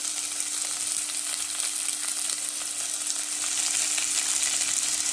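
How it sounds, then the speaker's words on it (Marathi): Millet roasts in a pan with some carrot for a millet pulao, giving a steady, dense crackling sizzle that stays even and close throughout, with no voices and a faint constant hum beneath. "मिलेट पण त्याला भाजायला घातले."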